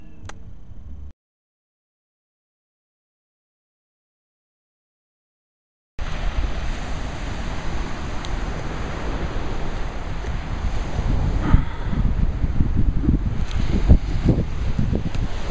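Ocean waves on a beach at Hoi An, Vietnam, a continuous surf roar with wind noise on the microphone, rising in intensity toward the end after a brief silent gap near the start.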